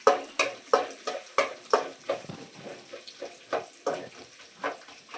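Puffed rice roasting in a pan for spicy mandakki, stirred over medium flame, with a steady rhythm of close scraping, rustling strokes about every half second over a faint sizzle.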